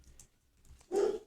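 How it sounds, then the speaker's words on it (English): A dog barks once in the background of a room, a short muffled bark near the end after faint keyboard typing taps, distant and quiet. "Sorry for my dog in the background."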